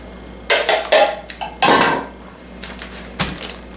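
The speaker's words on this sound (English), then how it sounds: "I'm going to mix them in with my cranberries." Unpeeled apples and cranberries are mixed in a dish, several loud clattering scrapes and clinks of a utensil against the bowl in quick bursts, then quieter shuffling and one last clink.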